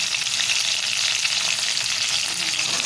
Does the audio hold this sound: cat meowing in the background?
no